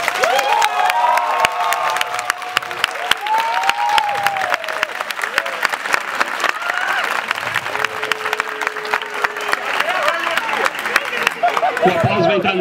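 A crowd at a university student-election debate breaks into loud, sustained applause and cheering, with whoops and shouts rising over dense clapping throughout, some voices calling out near the end.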